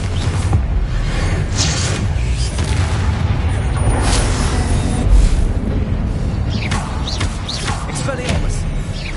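Confringo blasting spells in the Hogwarts Legacy video game, a loud dense run of booming explosions and magical bursts with deep rumble throughout, several sharp crackling impacts layered together.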